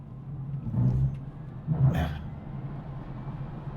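A Polestar 2 electric car, 300 kW and 408 horsepower, accelerates hard from 0 to 60 mph, heard as a rising rush of motor whine and road and wind noise swelling in two surges, moderately loud inside the cabin.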